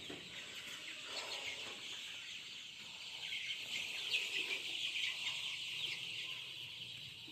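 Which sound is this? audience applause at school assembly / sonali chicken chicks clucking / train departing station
sonali chicken chicks clucking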